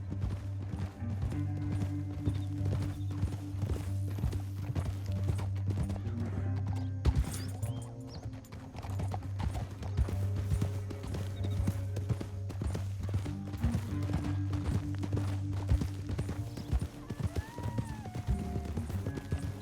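Steady clip-clopping horse hooves in a western video game over a bed of western-style music, with a whinny rising briefly near the end; continuous and moderately loud throughout.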